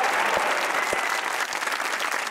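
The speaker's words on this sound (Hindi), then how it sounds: "तो बजाइए तालियां" A studio audience on the talk show Hasna Mana Hai claps in a thick, continuous burst of applause, with a few low thumps standing out near the start.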